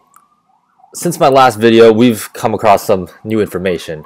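Police sirens wail faintly in the distance in New York City beneath someone talking close up.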